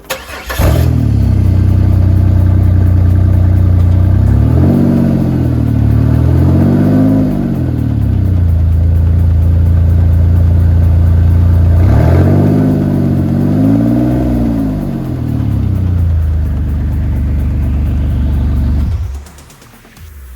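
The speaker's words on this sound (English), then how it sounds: "I then started my car" Pontiac Firebird engine idling with the muffler removed: a loud, raw, throaty rumble that starts up, revs twice in wavering swells, settles back to idle and then cuts off near the end.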